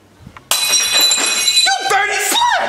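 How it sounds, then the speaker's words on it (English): Glass breaks in a loud shatter about half a second in, with bright crashing fragments and tinkling pieces ringing on for over two seconds in an animated puppet comedy scene, starting abruptly after near silence. "You just broke glass!"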